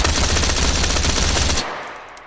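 An automatic rifle fires without a flash hider in the ModulAR2 video game, a loud rapid burst of shots that stops abruptly and trails off into a brief fading echo.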